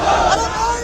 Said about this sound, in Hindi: मुख्य सड़क पर भीड़, शोर और नारेबाजी